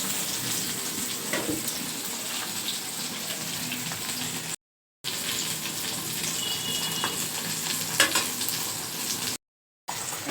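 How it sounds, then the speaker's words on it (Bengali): Pointed gourd (potol) frying in a pan, a steady dense sizzle and crackle throughout, close and fairly loud, broken by two brief silent gaps, with no one talking. "পটলটা ভেজে নিচ্ছি"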